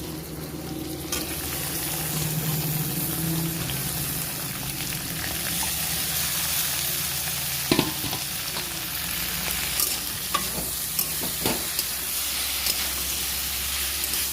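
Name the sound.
tomato and eggplant frying and being stirred in a wok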